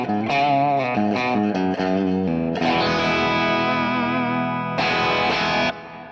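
A distorted electric guitar on the bridge pickup with a bright, biting tone plays a short phrase of notes, then rings out in sustained chords.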